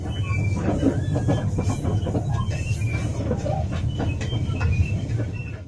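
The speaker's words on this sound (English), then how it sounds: "I also found that the train made a lot of squeaking noises." A Chinese-built train on the Skopje to Prilep line in North Macedonia rumbles along steadily with high-pitched metallic squeals from the wheels scraping the rails, continuous and loud throughout.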